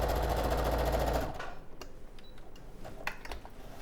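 Domestic sewing machine stitching a quilt strip seam at a quarter inch, a loud steady mechanical whir for about a second, then stopping, followed by faint clicks and handling taps.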